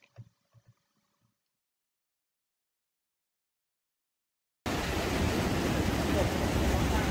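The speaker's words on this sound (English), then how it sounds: "looking down to the rolling waves making their way onto the beach and the promenade" Sea waves rolling onto the beach below Blackpool's Central Pier. After a few seconds of near silence, a loud, steady wash of surf and wind noise rushes in and fills the rest of the clip.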